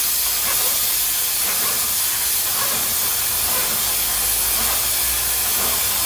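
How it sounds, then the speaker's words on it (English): Chain lube sprays in a continuous, loud, close hiss onto the chain of a Suzuki GSX1400 motorcycle as the wheel turns. "just basically spray on as you move the wheel around"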